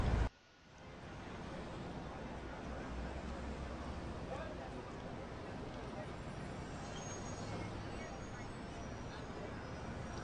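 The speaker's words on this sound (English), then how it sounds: "Here's one for New York City, including sirens and people." Dense New York City street ambience recorded as a sound effect: a steady wash of traffic and engine rumble with a crowd murmur underneath, holding at an even, fairly loud level throughout with no distinct siren standing out.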